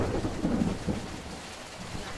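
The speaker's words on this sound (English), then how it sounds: "I hear thunder right now." Low rumbling thunder rolls under a steady wash of rain, fairly faint and diffuse, fading after the first second with no voices.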